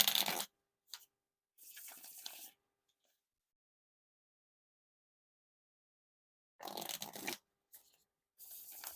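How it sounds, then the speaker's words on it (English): Red Mario Nintendo playing cards, soft and flexible, riffle shuffled in close, crisp fluttering bursts separated by long silences, with a second pair of riffles near the end. "now time for the Riffle Shuffle or Bridge Shuffle"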